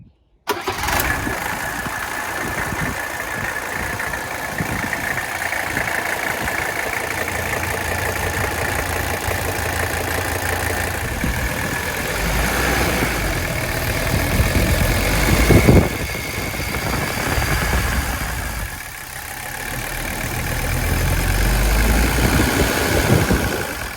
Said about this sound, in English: After starting up the car there, revving up the engine several times